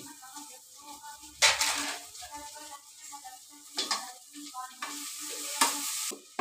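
Potatoes and raw mango pieces frying together in a pan over a wood-fired stove, a soft steady sizzle broken by several sharp bursts of stirring and scraping against the pan.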